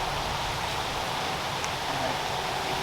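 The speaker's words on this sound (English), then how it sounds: "But the rain, boy, the rain is coming down hard," Heavy rain pours down steadily outdoors during a fishing outing at a bridge, a dense, even hiss with no breaks, loud and close, with no voices.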